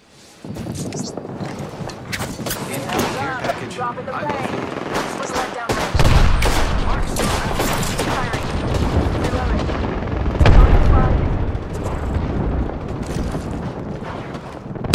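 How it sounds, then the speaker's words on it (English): Loud gunfire in the battle royale shooter Apex Legends, with bursts of automatic shots and heavy impacts layered over game effects, intensifying around the middle as incoming fire hits, while a voice talks. "I am taking fire, friends."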